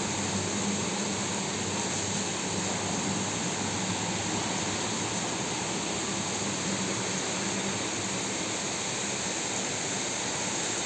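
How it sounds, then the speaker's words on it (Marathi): Heavy rain falling in Kolhapur during a thunderstorm: a dense, steady roar of downpour, unbroken and uniform throughout, with no voices. "पावसाचा आवाज येतोय ना"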